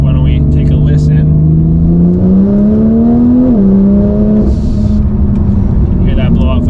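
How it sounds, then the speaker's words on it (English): A Bugatti engine revs loud and close, its pitch climbing steadily before a blow-off valve releases with a sharp hiss as the revs drop, followed by a settling engine note with light ambient noise behind. "Hear that blow-off valve in action."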